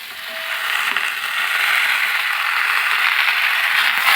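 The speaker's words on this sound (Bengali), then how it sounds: "শাকগুলো দিয়ে দিচ্ছি একটু হালকা ভেজে নেব" Malabar spinach fries in oil together with potatoes and pumpkin, producing a loud, continuous hissing sizzle that swells slightly and holds steady, close up with no voices.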